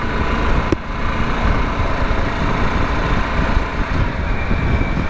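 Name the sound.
Harley Davidson Pan America motorcycle riding, gear changes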